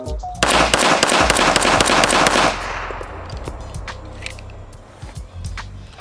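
Rapid string of .45 ACP shots from a Remington M1911A1 field grade pistol with PMC Bronze 230 grain ammunition, loud sharp cracks packed closely for about two seconds, then ringing tail and lower background noise with no talk.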